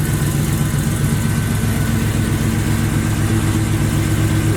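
A supercharged Cutlass engine runs at a steady idle, close and loud, a constant low rumble with no breaks and no talking over it.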